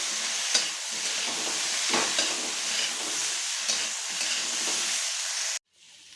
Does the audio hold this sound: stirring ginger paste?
yes